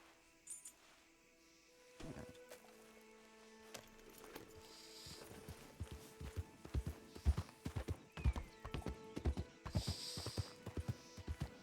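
A horse in the game Red Dead RedM trots with hooves clip-clopping in a quickening rhythm, starting sparse and becoming steady and close, with faint clinks and a brief whinny-like tone early on.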